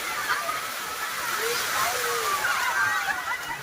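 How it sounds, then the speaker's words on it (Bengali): Large sea waves break and slosh at Marina Beach in Chennai, a steady rushing wash of surf filling the short stretch without pause. "ঢেউ কত বড় বড় ঢেউ আসে, ওই পানির ঢেউ অনেক উপরে আসে"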